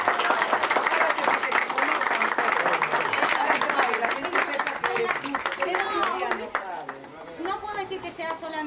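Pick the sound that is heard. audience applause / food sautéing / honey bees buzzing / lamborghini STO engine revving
audience applause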